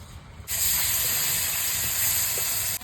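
Snakehead fish coated in salt and turmeric hits hot oil with a sudden loud hiss that holds as a steady, close spitting sizzle, with a low hum underneath.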